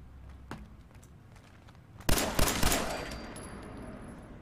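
Three loud, sharp gunshot bursts from a weapon in the video game Fallout 4 ring out in quick succession after a quiet stretch, each crack trailing into a long decaying echo.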